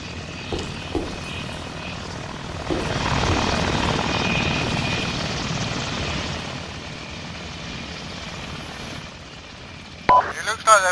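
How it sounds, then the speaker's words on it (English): Helicopter rotor and engine drone in ARMA 2 during a Capture the Flag match at Fort Benning, swelling and fading over several seconds, with players' voices talking over it and a sharp burst near the end. "Helicopter."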